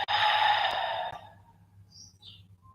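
A long, breathy exhale during a guided meditation, steady and close for about a second before trailing off into quiet room tone with a faint low hum.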